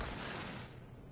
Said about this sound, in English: it seems to be firing just nothing but heat at the moment